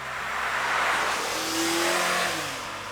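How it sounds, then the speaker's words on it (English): A car engine revs hard as it accelerates, a rising, straining drone that swells loudly, eases, then climbs again as though shifting through the gears. "You have to really work this engine to get to triple-digit speeds."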